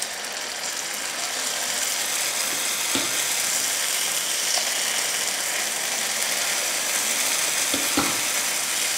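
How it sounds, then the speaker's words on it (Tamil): Oil and paniyaram batter sizzle in a hot paniyaram pan, a dense, steady crackling hiss that runs unbroken throughout, with a couple of soft clicks of the pan or utensil near the start and end. "இப்போ எண்ணெய் ஊற்றிடலாம். பணியாரம் ஊற்றிடலாம்."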